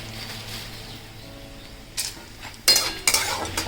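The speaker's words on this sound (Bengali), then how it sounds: "বড়িটা ভেজে নিচ্ছি।" Bori lentil dumplings frying in a pan, a quiet low background broken by a few sharp utensil clinks and scrapes against the pan in the last two seconds, close by.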